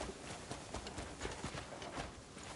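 Horse hooves in Crimson Desert clop in a quick, steady gait, faint and set within a busy, noisy game soundscape, with no voices.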